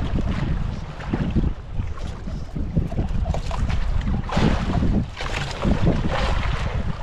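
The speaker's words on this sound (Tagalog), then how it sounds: "malakas ang hangin." Strong wind buffets the microphone aboard a travelling boat, a steady rumbling roar with gusting surges throughout, mixed with water and hull noise and no clear talk.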